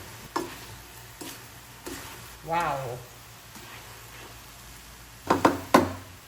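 Filipino low-carb bopis sizzling in oil in a pan with pepper and two bay leaves, with intermittent crackling bursts and stirring clatter while a voice exclaims briefly.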